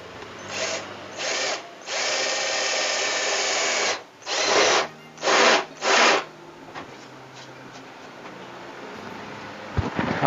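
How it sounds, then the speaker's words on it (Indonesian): A power drill trims a plastic bump during LCD/LED TV repair, whirring in several bursts, one long grinding run followed by three short pulses, loud and close, then fades to quiet background noise. "Kita pangkas menggunakan bor."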